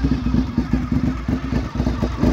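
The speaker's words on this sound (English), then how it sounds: "You'll love the gear drive cams if you've never heard an RC51." A 2003 Honda RC51 motorcycle engine with gear-driven cams runs close by, its steady rapid pulsing beat carrying a mechanical clatter and slight rises in revs, with no voices.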